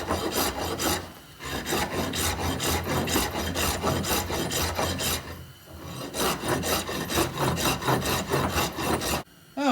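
Someone hand-sands a wooden tonfa in steady back-and-forth rasping strokes, close and fairly loud, with two short pauses before the rhythmic scraping resumes.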